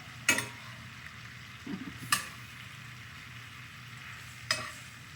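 Shrimp for scampi flipped one by one in a skillet: a soft, steady sizzle broken by three crisp tong clicks spaced a couple of seconds apart, with a light scrape between them.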